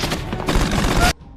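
Dense, continuous automatic gunfire from a military shootout at a fortified embassy compound roars loud and close for just over a second before cutting off abruptly.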